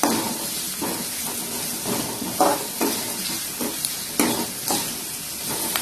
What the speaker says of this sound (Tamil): எல்லாத்தையும் நல்லா வதக்கிக்கலாம்.